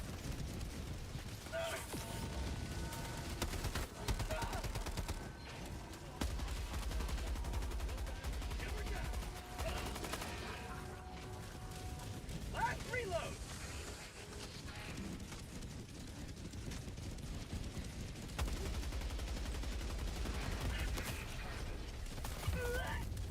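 Rapid automatic gunfire from a gatling gun in a video game, sustained bursts of clattering shots running through the whole stretch with heavier low thumps at times, amid other battle noise.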